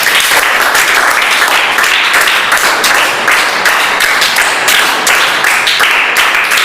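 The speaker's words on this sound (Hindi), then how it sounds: "ताली बजाओ जी जोर से।" Loud, sustained clapping from a group of children in a coaching class rewards a correct quiz answer, rapid overlapping hand claps close by, steady throughout with no talking.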